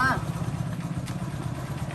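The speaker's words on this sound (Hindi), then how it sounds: "गाइस अभी हम नक्का जी की बाइक पे बैठे हैं" A motorbike carrying riders pulls away on a trip in Rajasthan, its engine rumbling steadily and close beneath people talking throughout.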